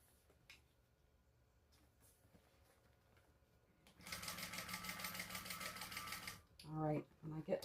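A sewing machine topstitches a bag in a steady, loud burst of rapid mechanical stitching lasting a couple of seconds, with quieter room noise before it and a voice speaking briefly right after.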